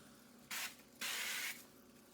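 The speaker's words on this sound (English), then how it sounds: "I'm going to start out by spraying the bundt pan with some vegetable oil." Vegetable oil sprayed from a can into a bundt pan in a kitchen: two short, close hissing bursts, the second longer than the first, with quiet pauses between.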